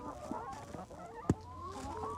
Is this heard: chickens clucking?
yes